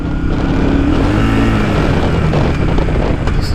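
A 1982 Yamaha Virago motorcycle rides along with a loud, steady engine drone whose pitch shifts slightly as it goes, mixed with heavy wind buffeting against the microphone.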